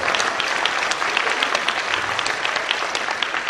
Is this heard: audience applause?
yes